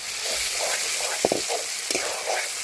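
Tomatoes fry in a pan while a village-style snail curry is being cooked, giving a steady sizzle with a few brief stirring clinks, close and moderately loud, and no talking.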